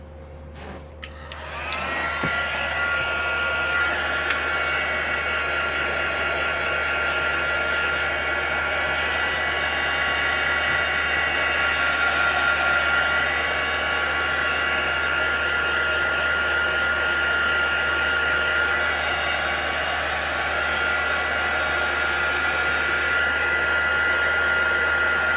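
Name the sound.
heat tool drying watercolor stamp ink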